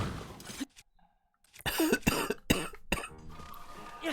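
A livestreamer coughs during a gaming session: after a near-silent stretch, a few sharp, close coughs burst out in quick succession, followed by a brief low sound from the same person.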